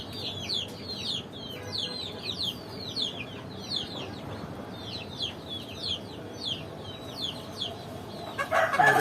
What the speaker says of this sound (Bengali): এইটা হচ্ছে মুরগির ঘর